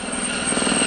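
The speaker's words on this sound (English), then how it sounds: "The Gazelle was the first helicopter to feature the distinctive ducted fan on the tail" A Gazelle helicopter with a fenestron ducted-fan tail rotor flies at an air show, its steady rotor and engine drone loud and continuous with a faint high whine above.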